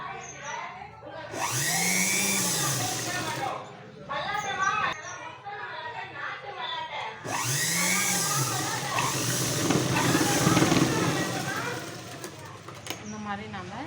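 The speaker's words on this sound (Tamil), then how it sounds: "இந்த ஷேப்க்கு நம்ம கொஞ்சம் கொஞ்சமாக தையல் போட்டு" A sewing machine runs in two long bursts while stitching a blouse, its motor whirring and rising and falling in pitch, with talking and brief quiet gaps between the runs.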